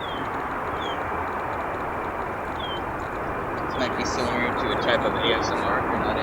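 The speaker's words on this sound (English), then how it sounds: "we got some parallel landings going on 10 right, 10 center" Parallel airplane landings at O'Hare International Airport, a steady, loud broadband jet roar rumbling throughout, swelling slightly toward the end, with faint high chirps over it and no speech.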